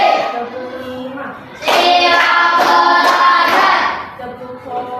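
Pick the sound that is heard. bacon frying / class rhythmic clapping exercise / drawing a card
class rhythmic clapping exercise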